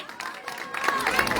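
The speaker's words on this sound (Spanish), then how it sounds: "fuerte los aplausos para ellos" Crowd applause and cheering for a small children's dance group at a traditional masked-dance offering ceremony, building steadily over murmuring voices and busy crowd noise.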